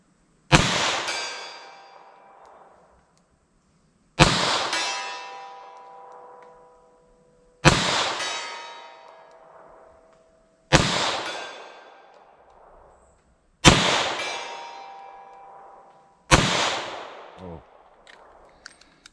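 Six sharp gunshots from a snub nose revolver firing .32 S&W Long Magtech ammunition outdoors, evenly spaced about three seconds apart, each a loud crack with a ringing decay; no talking.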